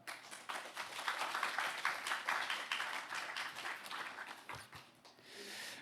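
A church congregation at a Korean Presbyterian service in Hawaii breaks into a warm round of welcoming applause, many hands clapping in a dense, fairly quiet burst that tapers off near the end.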